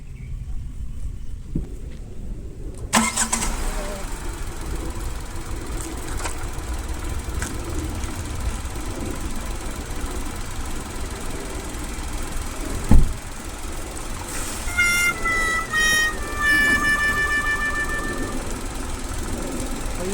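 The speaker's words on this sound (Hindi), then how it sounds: "तो अब मैं करता हूँ इंजन को स्टार्ट, तो देखना आप लोग।" Tata Punch car engine cranking into life after a sudden onset, then settling into a steady, low idle rumble that runs throughout, with a sharp knock partway through and a faint high whine near the end.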